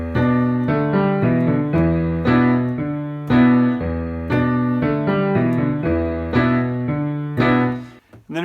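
A piano plays a bluesy riff, with a repeating bass figure and chordal stabs in a steady rocking groove, close and clear with no voice.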